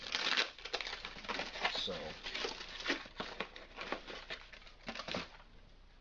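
Plastic packaging crinkles and crackles as boxes are unwrapped, with bursts of rustling and tearing close up, a brief spoken word among them.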